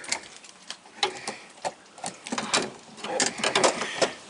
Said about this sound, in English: I'm going to take my ratchet, the long extension, go right in